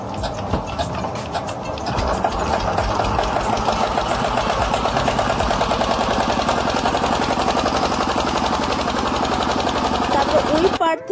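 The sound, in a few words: motor boat engine starting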